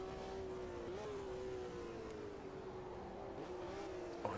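Steady, loud engine drone from a 1975 Formula 1 car in Automobilista 2, racing at the South African Grand Prix. The pitch holds nearly level, dipping slightly and rising again, and the sound runs continuously with no talk.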